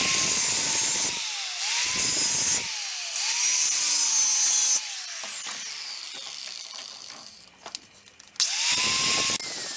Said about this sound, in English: so now we can just kind of cut the tacks off